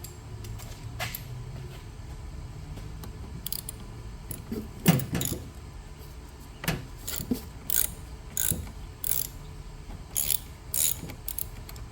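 A ratchet wrench on a 10 mm nut at the battery terminal of a Mitsubishi Mirage during engine mount work, giving several short bursts of clicking, close and moderately loud, with quiet pauses between.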